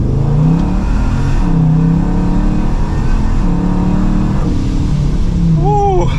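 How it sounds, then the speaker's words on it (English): An 1100 hp Dodge Charger Scat Pack pulls hard from second gear, its engine roaring loud and close in a steady climbing drone with a shift part way through. "getting this 1100 horsepower Charger out on the road. And so from second gear,"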